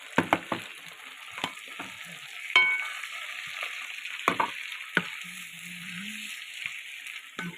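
Chopped tomatoes sizzle and fry in a pan for a Filipino tomato and egg sauté, a steady hiss broken by several close scrapes and stirs of a utensil against the pan.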